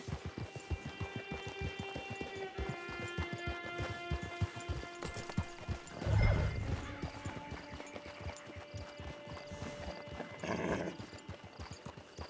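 Horse hooves clip-clop at a steady, brisk rhythm in the video game Red Dead Online. The footfalls sit over a sustained musical score, with a couple of louder thuds or snorts partway through.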